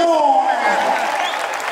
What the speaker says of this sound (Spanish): Regálame fuerte ese aplauso, que suena bonito.